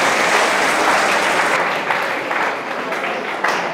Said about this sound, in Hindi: जोरदार ताली हो जाए इस बच्चे के लिए